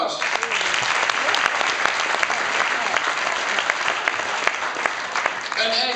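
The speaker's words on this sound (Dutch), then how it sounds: "Nog een heel groot applaus." An audience applauds after a finale pitch presentation for a smart shower idea, steady dense clapping filling the room for the full stretch, loud and close with a faint voice rising near the end.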